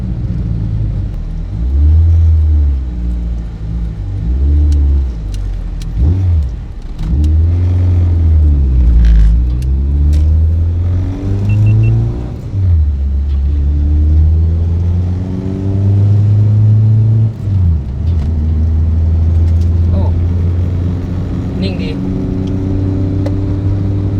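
A Honda Civic EK coupe with a B18/20 engine revs repeatedly while driving, its engine note sweeping up and down through the gears with a deep steady drone inside the cabin.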